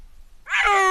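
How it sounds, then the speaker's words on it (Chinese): A snow leopard gives a single rising, drawn-out yowl after a brief quiet moment, loud and close, somewhat like a big cat's meow, with nothing else heard. "这是雪豹，它的叫声是这样的。"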